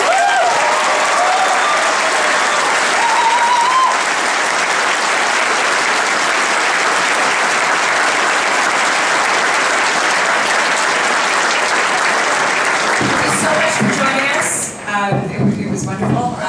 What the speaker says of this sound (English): a round of applause for our wonderful.